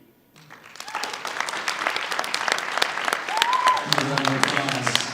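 A crowd's applause swells up after a short pause and holds steady at a Super Bowl celebration event in Las Vegas, with voices talking and a brief whoop underneath.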